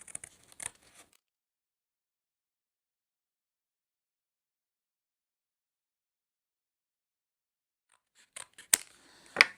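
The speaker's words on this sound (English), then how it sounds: "you can cut this quite happily with scissors" Scissors snip through card being cut for a model railway building roof, a few crisp quiet cuts at the start and again near the end with a long silent gap between.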